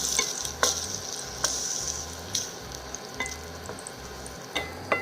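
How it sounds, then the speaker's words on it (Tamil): Cashews fry in ghee with a steady soft sizzle, and a spoon stirs them in the pan, making regular scraping clicks at close range. "லைட்டாக கோல்டு கலர் வர வரைக்கும் நம்ம வறுத்துக்கலாம்"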